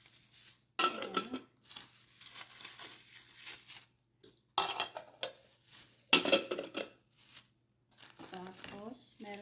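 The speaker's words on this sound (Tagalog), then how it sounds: "Tapos, meron siya mga libreng kutsara." Free spoons being handled from a Temu parcel, with short clinks and crinkly packaging rustles arriving in separate bursts, while a person speaks between them.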